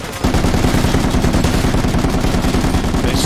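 A .50 calibre machine gun firing in the video game Project Reality, a loud, sustained burst of rapid, evenly spaced heavy shots starting abruptly after a brief pause and continuing without break.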